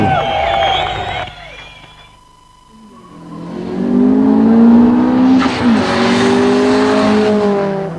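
An early 90s Honda CRX at Sydney's Oran Park circuit, its engine rising from a fading drone through a pause into a loud, sustained revving climb with shifting pitch, close by.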